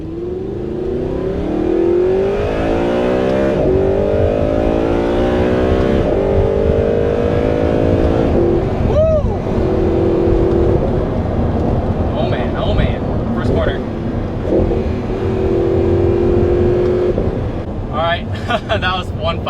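An Audi R8 V8 Spyder pulls hard through several rising engine sweeps with gear changes between them, loud and close under strong wind rush, while a person talks over parts of the run.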